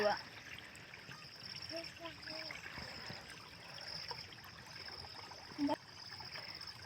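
Irrigation water flows into a rose field in a faint, steady trickle heard throughout, with a soft voice or two at a distance.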